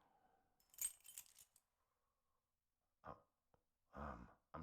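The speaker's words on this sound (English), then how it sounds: "The old man trying to sift through his keys." An old man sifting through his keys in the video game Silent Hill 4: a short burst of metallic jangling, then a pause and a few quieter rattles and clinks.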